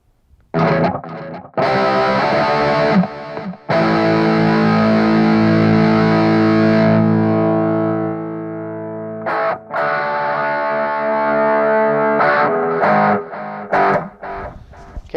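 Epiphone Explorer electric guitar through a drive pedal, loud saturated chords and sustained notes with brief pauses, a held chord fading out before playing resumes, close and dry.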